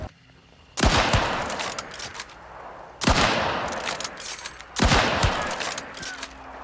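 Gunfire in the video game Hunt: Showdown comes in three loud, close bursts a couple of seconds apart, each a rapid cluster of shots followed by a rumbling, echoing tail.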